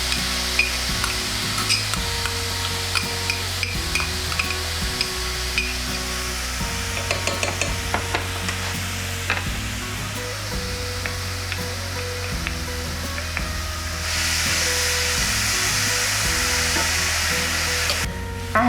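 Half an onion and three cloves of garlic cook without oil in a pan, giving a steady sizzle broken by frequent utensil scrapes and clinks, close and fairly loud, with the hiss growing louder near the end and no talk.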